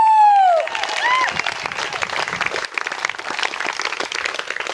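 Wedding guests in Margaret River, Australia applaud the newlyweds with a burst of clapping and a cheer, steady, dense applause filling the room for several seconds after a brief whoop at the start.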